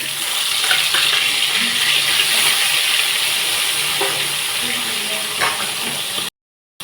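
Fish pieces frying in hot oil for Odia macha besara, a steady, close, dense sizzle with small crackles and pops throughout, cutting out abruptly near the end.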